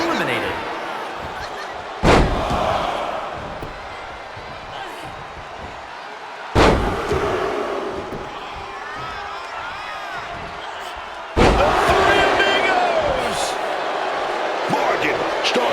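Arena crowd in the WWE 2K26 wrestling video game roars steadily, with three heavy slams jolting the noise before it settles back to a loud cheering bed.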